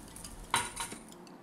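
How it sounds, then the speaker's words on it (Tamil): Ground apple paste stirred in a heated pan, a couple of quick metallic clinks and scrapes of a spoon against the pan, close but soft over a faint low sizzle. "அது வரைக்கும் கொஞ்சம் பேனில் போட்டு நல்லா கிண்டுங்க"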